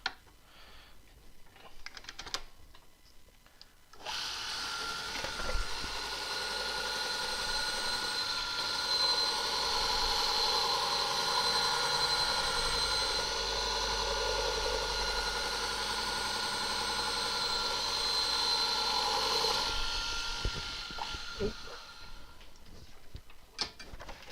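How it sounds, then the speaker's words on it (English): A bowl gouge is held against a spinning grinder wheel in a woodturning shop, giving a steady high scraping whine for about fifteen seconds. The wheel spins up before the pass and winds down after it, with faint clicks around the edges. "I'm going to sharpen the bowl gouge for a second"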